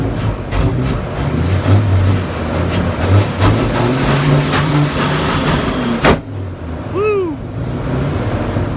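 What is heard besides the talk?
Dodge Ram V10 truck engine running roughly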